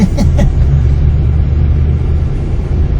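A person's first car, driven again twenty years later, gives a loud, close, steady engine rumble from inside the cabin while moving, with a couple of brief higher sounds near the start and no clear talk.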